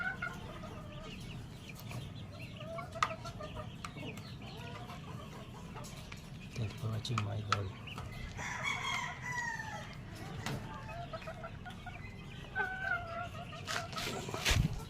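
White hackle gamefowl roosters clucking and crowing in a farmyard, scattered calls near and far over a faint background, with a brief spoken line near the end.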